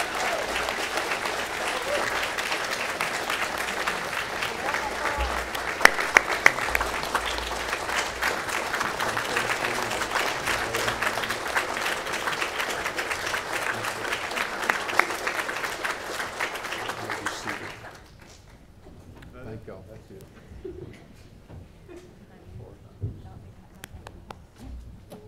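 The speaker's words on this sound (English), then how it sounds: "Let's give Chuck a big round of applause." A church congregation at Providence Baptist Church applauds for Chuck during a Sunday morning worship service. The dense, sustained clapping fills a large room for about seventeen seconds, then drops off abruptly, leaving only quiet room sound and faint stray noises.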